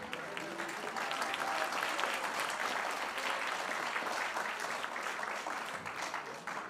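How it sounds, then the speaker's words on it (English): Audience applause at an evening gathering of a Swiss Buddhist centre, a steady wash of many hands clapping at moderate volume that holds evenly for several seconds, with no voices over it. "merci pour les applaudissements"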